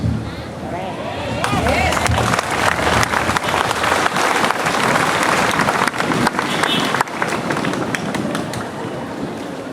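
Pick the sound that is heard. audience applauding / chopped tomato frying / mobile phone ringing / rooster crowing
audience applauding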